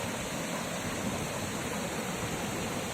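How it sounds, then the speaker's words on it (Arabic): A waterfall at Wadi El Rayan in Fayoum, Egypt, giving a steady, dense rush of falling water that stays even and unbroken throughout, with no voices over it. "شلال تاني"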